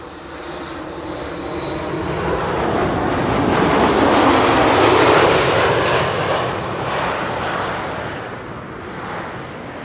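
An airliner inbound from Ibiza arrives at Amsterdam Schiphol, its jet roar swelling to a loud peak mid-pass and then slowly fading as it moves away, with no talking.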